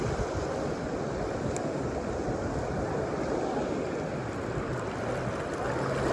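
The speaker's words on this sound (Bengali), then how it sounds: "দেখুন বিশাল বড় একটা স্রোত আসছে।" A large sea wave surges at Cox's Bazar beach, a continuous dense wash of surf with wind buffeting the microphone, steady and fairly loud.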